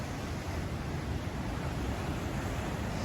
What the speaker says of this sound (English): I just love the sound of the waves